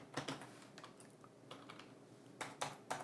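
Typing on a computer keyboard, a quiet clatter of keystrokes in loose clusters with pauses between, faint and steady, no talking.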